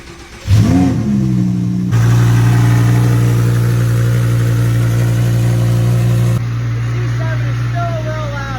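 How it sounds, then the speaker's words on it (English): Twin-turbo Lamborghini Huracan engine cold-starting: a sharp starter catch and loud flare of revs that settles into a steady, deep, throbbing idle, with the pitch easing down toward the end. "Next up, my twin turbo Huracan."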